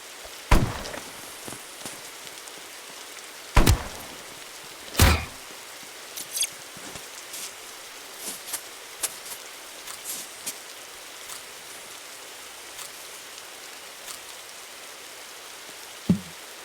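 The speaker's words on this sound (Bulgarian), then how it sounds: "Ама много мряза да вали." Rain falling in the survival game 99 Nights in the Forest, a steady soft hiss with scattered louder drop clicks and a few sharp taps, heard alone with no talking.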